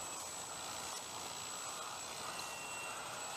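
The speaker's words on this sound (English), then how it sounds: "T-28. That's a big airplane." A large T-28 radio-controlled model airplane, about 12 pounds loaded, runs its engine at a flying field with a steady, droning whine that holds constant throughout, with no voices.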